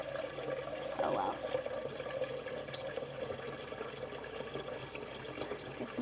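Water runs from a kitchen tap into a sink in a steady, close hiss that continues throughout, with faint voices and household noise in the background.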